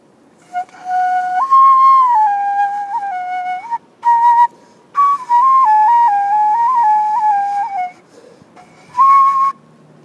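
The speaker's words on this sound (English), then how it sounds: "The first flute is a pocket flute on the harmonic minor scale." Loud, pure whistling tones from a pocket flute playing a harmonic minor scale, stepping up and down in short phrases separated by brief breaths, close and alone.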